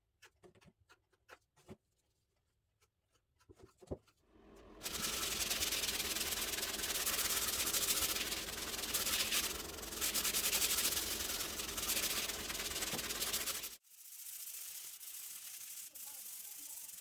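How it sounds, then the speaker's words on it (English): Automotive body filler on a laminate vanity top rubbed down with a sanding block and 50 grit paper: a few taps, then a long loud steady scrubbing stretch, then softer continued sanding. "sand the fill down with a sanding block and some 50 grit paper"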